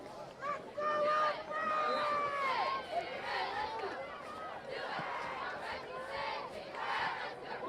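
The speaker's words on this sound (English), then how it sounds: "You can hear the crowd. They're very vocal, vociferous, so to speak, very involved in this ballgame." Vocal crowd at a high school basketball game, Paraclete against St. Francis, shouting and cheering steadily throughout, with loud surges of yelling and busy chatter from many voices filling the gym.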